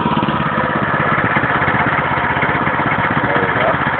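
A homemade go-kart's small engine runs steadily just after starting, a loud close, rough idling putter with a fast even pulse that holds unbroken throughout.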